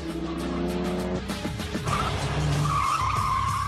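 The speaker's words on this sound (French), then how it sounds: "C'est la Type E la plus agréable à conduire que j'ai jamais eue entre les mains." A Jaguar E-Type being driven hard, its engine droning steadily with a pitch that shifts as tyres squeal and skid, loud and close throughout with no talk.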